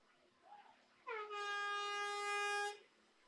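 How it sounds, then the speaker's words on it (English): At an endurance racing event in Slovakia, a racing team's Greek air horn gives one loud, sustained blast lasting about a second and a half, following a faint short sound. "The Greek air horn for Team Atlas is still doing a fantastic job."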